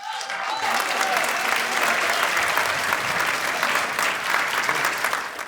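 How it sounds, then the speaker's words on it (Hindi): A large audience at an Urdu poetry mushaira in Dubai breaks into loud, full applause that swells quickly and holds strong throughout, thick crowd clapping close and continuous with faint murmurs mixed in. "आप सबकी भरपूर तालियों में"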